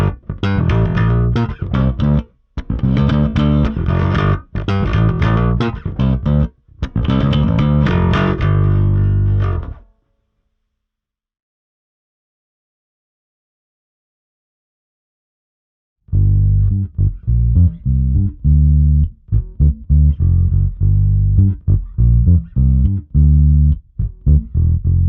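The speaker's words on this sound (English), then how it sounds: "At the cleaner end of the spectrum, we've got the deep bass and fat mids of 70s funk and modern neo-soul." A bass guitar plays clean funk and neo-soul tones through a BASSRIG Super Vintage preamp, with rhythmic phrases in two loud passages separated by several seconds of silence.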